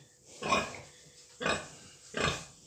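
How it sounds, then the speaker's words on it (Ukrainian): Three low, rough grunts from pigs in a farm's farrowing unit, evenly spaced about a second apart, fairly quiet and close by, with no talking. "Свинки всі на місці."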